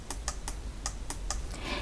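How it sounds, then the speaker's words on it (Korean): Keys on a computer keyboard are pressed while entering an Excel formula, a run of about seven sharp, close clicks at uneven intervals over a low background hum, with no talk. "방법은 기능키 F4 키를 2번 눌러주시면 되세요"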